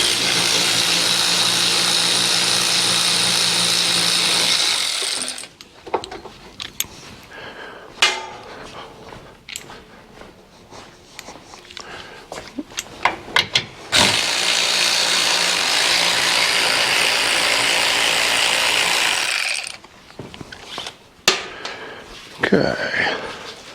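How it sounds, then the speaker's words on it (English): An electric ratchet loosens a 17 mm bolt while a harness bar is fitted to a Kawasaki KRX 1000, giving two long, loud whirring runs with quieter clicks and clanks of handling between them. "I'm going to use electric ratchet so we can get through it quicker for the video"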